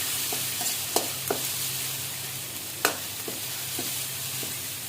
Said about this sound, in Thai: กระเทียมของเราจะตำไว้แล้วนะคะ เราจะลงเจียวเลยค่ะ